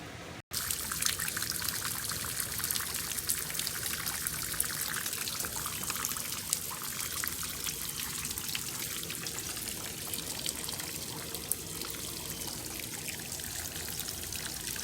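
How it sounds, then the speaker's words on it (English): Steady rain pattering and trickling on a bus, a constant wash of droplets with no voices. "Sounds of rain."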